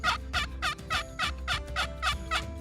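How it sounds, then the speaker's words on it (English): A turkey-hunting box call scraped out a close, clear series of about eight evenly spaced yelps in a steady rhythm, with no voices over it. "I'll grab my box call."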